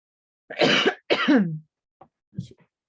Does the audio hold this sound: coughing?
yes